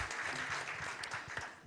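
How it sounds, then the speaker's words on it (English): Audience applause for a minister at a climate conference session in Nairobi, a short burst of dense clapping from a seated crowd, fairly near and steady before tapering off. "A round of applause to the minister."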